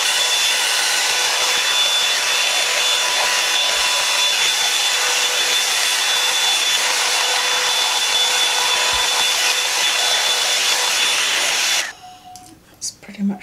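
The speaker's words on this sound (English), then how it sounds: "I'm going to blast it." A hair dryer blows steadily on wet hair, a loud, close, continuous whoosh that runs unbroken for about twelve seconds before cutting off, with faint handling noise after.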